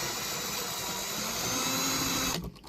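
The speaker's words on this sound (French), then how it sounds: "Alors je m'excuse pour le bruit de la visseuse." A cordless screwdriver whirs steadily as it backs out the screws of the exterior mirror cover on a Dacia Spring, a loud continuous high whine for over two seconds that stops abruptly near the end.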